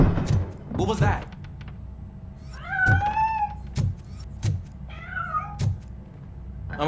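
A cat in the video game RoboCop: Rogue City gives several drawn-out, rising meows spread over a few seconds, clear and fairly close, after someone briefly speaks.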